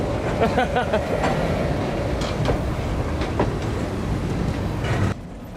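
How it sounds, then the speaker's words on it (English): Three L&NW diesel locomotives ease slowly back onto a railroad interchange track, a steady nearby rumble with faint rhythmic clatter from the wheels, running throughout before dropping off near the end. "The trio of L&NW motors ease back into the interchange track."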